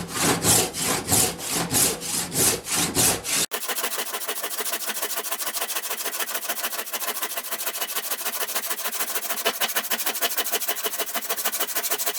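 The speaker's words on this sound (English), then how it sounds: "it's only 7 teeth per inch, so it's pretty fine for a rip cut saw" A hand rip saw with 7 teeth per inch cutting wood, first in a few slow, heavy strokes, then in fast rhythmic back-and-forth strokes that rasp loudly and continuously up close.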